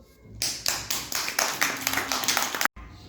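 A small group claps during an attempt at reciting the Istiklal Marşı, a quick run of sharp, close hand claps in an uneven rhythm that stops abruptly.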